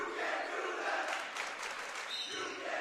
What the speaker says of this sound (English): So some great energy from this crowd tonight on senior night